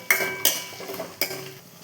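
A metal spoon clinks three times against a pan as onions are sautéed for drumstick and brinjal kuzhambu, each sharp clank ringing briefly over a faint sizzle, close and without voices.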